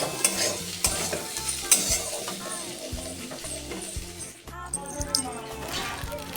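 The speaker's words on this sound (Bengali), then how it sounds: "আর এখন আমরা সকালে আলু ভাজছি" Potatoes fry in a pan for a home breakfast, a close sizzle broken by frequent scraping and clinking of a spatula being stirred through them, while someone talks over the cooking.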